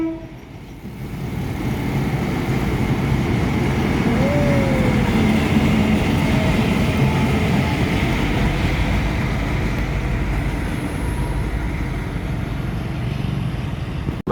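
A train locomotive rumbles steadily beneath the Keramasan bridge near Kramasan station, a loud continuous low roar filling the whole stretch with one brief horn-like tone rising near the middle.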